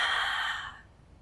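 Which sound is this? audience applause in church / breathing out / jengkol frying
breathing out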